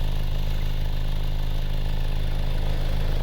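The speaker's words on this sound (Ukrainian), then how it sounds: "Ось тільки завів, автомобіль працює рівно тихо." A 2008 Audi A4 2.0 MPI petrol engine idles steadily with a low, even rumble and light mechanical clatter, constant and unchanging, with no voices.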